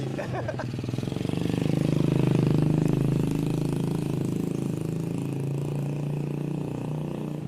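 A motorcycle with a loud exhaust runs on a mountain trail, its engine rumbling and swelling in a rev before settling into a steady throbbing drone close by.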